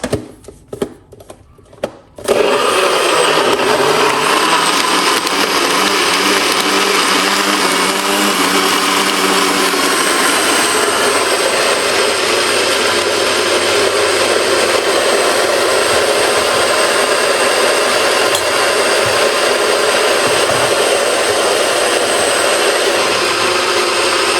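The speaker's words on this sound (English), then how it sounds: "Let's blend him up and make some noise." A few faint knocks, then a blender roars to life and runs loud and steady without pause, a high whirring motor drone that fills the space.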